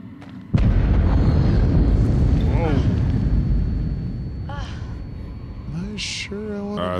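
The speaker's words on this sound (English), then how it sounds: "Is that the explosion from up above?" A loud explosion bursts out in the Until Dawn video game, likely set off by barrels, then a sustained rumbling roar slowly fades while voices talk over it.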